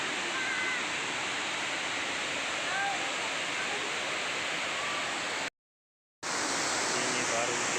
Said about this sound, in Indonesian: Ini baru benar-benar air loncat, air terjun Salodik